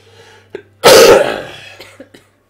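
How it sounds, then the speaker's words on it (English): A single loud, harsh cough bursts out and trails off within half a second. Softer breathy sounds come before and after it over a low steady hum, at the ending of a game. "Sympathetic coughs."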